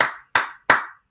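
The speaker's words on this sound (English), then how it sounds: "Clap the things that I clap. So if I clap, you clap" Three separate sharp hand claps in a slow, even rhythm, close and crisp, each decaying quickly into silence, as in a children's clap-back listening game.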